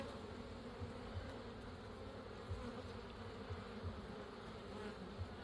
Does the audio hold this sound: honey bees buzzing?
yes